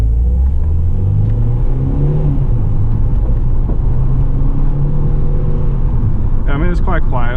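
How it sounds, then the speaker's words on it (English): The exhaust of a Mercedes W201 190E with a 1.8-litre inline four rumbles with the window down, a low, muted, steady drone under road noise, and a voice briefly cuts in near the end. "See if you can hear the exhaust at all better"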